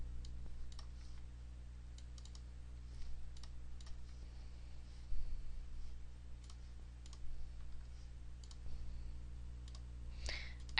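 Computer mouse clicks sound in short, sharp, faint taps, some single and some in quick pairs, scattered over a low steady hum.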